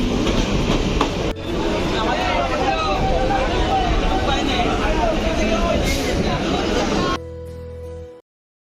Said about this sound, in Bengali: ট্রেন কিন্তু ঢুকে গেছে এখন আমরা ট্রেনে উঠবো